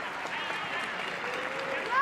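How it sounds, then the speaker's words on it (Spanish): Stadium crowd at the Johan Cruyff applauding a substituted youth player during a Barça B versus UE Llagostera match, a steady wash of distant clapping with a commentator talking over it throughout. "Aplaudido en el Johan Cruyff"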